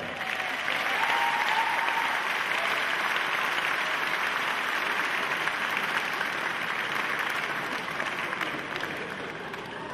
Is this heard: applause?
yes